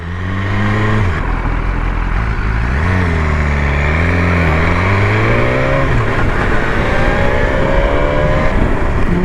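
A new motorcycle revs hard toward 15,500 RPM, a loud, close, continuous engine scream whose pitch drops, climbs and swings up and down through the revs, with no talking.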